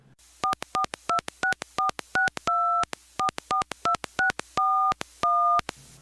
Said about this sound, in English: For help, let's make a phone call.